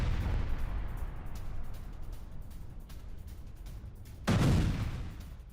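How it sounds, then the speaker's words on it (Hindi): An explosion hits a Russian T-80 tank in war footage, a sudden heavy blast near the end that follows a low, rumbling backdrop of distant fire, all fairly faint overall. "किस तरीके से रूसी फ्रंटलाइन पर तैनात T-80 टैंक में ब्लास्ट हुआ"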